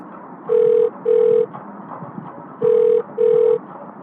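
A telephone rings with a classic double ring pattern, two pairs of short electronic trills in quick succession, clear and close over a quiet hum in a crime audio drama scene.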